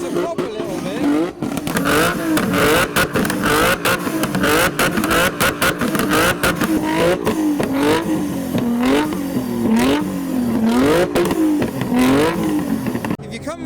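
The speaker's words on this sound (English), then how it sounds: "And now we've got a 350Z, some more V6 revs." A Nissan 350Z V6 engine revs repeatedly in rising and falling sweeps, loud and close, with occasional pops and a voice talking over it, at a modified car show.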